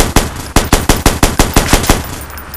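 Rapid automatic gunfire in the Watch Dogs video game, a loud run of about a dozen evenly spaced shots over two seconds, close and sharp with no voices.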